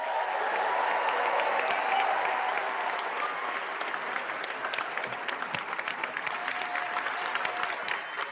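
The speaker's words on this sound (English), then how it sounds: "Keep that round of applause going for our new elected officials" Sustained applause from a sizable crowd, steady clapping that continues throughout and thins slightly toward the end.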